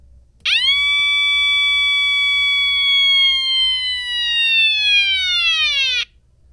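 A wailing siren from a 555 timer circuit built on a breadboard, one loud continuous electronic tone that jumps up, holds, then slowly sags in pitch for about five seconds before cutting off, with no other sound around it.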